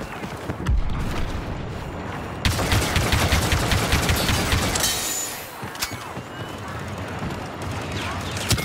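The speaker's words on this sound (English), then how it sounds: "Try to get creative with the ATE's heavy cannon." An AT-TE's heavy cannon fires during a Star Wars Battlefront 2 battle on Geonosis, with dense bursts of blasts and explosions over continuous combat noise and some voices.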